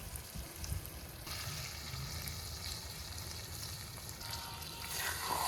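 Chicken fries in a pan in a home kitchen, giving a steady low sizzle with soft scraping and stirring movements, heard close and fairly quiet, with the frying growing slightly louder toward the end.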